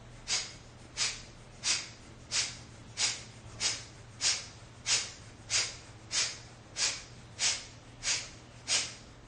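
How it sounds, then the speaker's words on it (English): Kapalabhati yoga breathing: about fourteen forceful, sharp nasal exhales in a steady rhythm of roughly one and a half per second, close and clear, with a low hum in the background and no talking. "We'll do Kapalabhati, forceful exhales."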